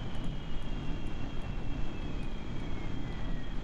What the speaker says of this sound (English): We have the afterburner engine,